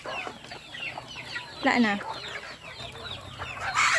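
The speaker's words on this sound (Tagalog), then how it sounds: "nagluluan na sila ang mga manok" Chickens among farm livestock cluck in short, scattered calls close by, with one louder burst partway through and brief talk over the flock.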